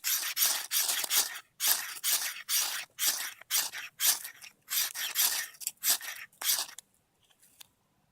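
A ferro rod is struck to shower embers down into a pocket of bushcraft tinder, a series of sharp scraping rasps in quick close bursts that stop near the end, with no talk.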